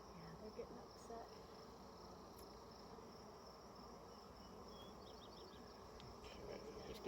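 Honey bees buzz steadily in a dense, continuous drone during a beehive inspection, close and sustained throughout with no talking.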